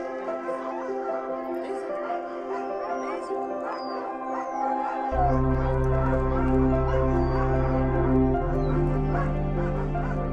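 Sled dogs bark and yip excitedly while being harnessed at a mushing camp, the calls scattered and fairly distant over a steady low drone and background ambience.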